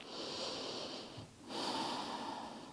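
Deep, slow breathing during a yoga stretch: one long audible inhale, a short pause, then another full breath, close and airy with a slightly nasal edge.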